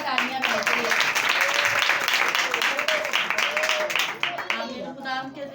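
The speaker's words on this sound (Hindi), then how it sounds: "जोरदार तालियां मिलती है" Loud, dense applause fills a women's intercessory prayer meeting, with steady clapping running throughout and voices speaking over it.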